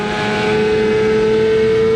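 A rally car powering out of a corner on a gravel hillclimb, its engine holding a loud, steady drone with a sustained tonal whine, close and continuous with no talk.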